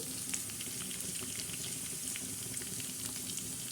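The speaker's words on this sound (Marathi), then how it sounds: "आता कढीपत्त्याचा बी मस्त असा चांगला तडका बसतोय" Curry leaves crackle and sizzle steadily in hot oil as a tempering for a mung and toor dal, a dense continuous frying hiss with small pops throughout, close and fairly loud with no talking.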